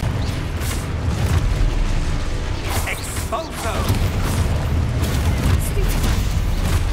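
Spell explosions and magical combat effects from the video game Hogwarts Legacy, a dense, continuous booming rumble with crackling bursts over a steady low roar, loud throughout with no clear single blast.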